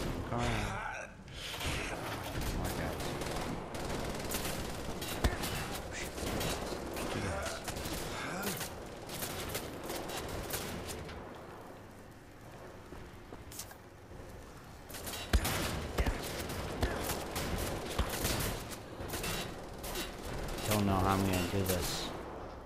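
Video game gunfire in Wolfenstein: The Old Blood, rapid bursts of shots that rise and fall in dense volleys while someone talks and exclaims throughout.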